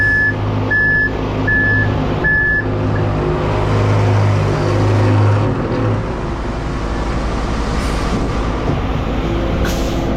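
Concrete truck arriving at a shotcrete job, its reversing alarm beeping four times in a regular rhythm over a loud diesel engine rumble that keeps running after the beeps stop.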